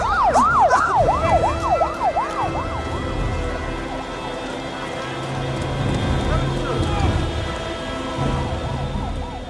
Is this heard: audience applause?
no